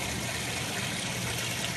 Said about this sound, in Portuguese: Aqui foi selecionado o ciclo instrumental e ela está enchendo de água.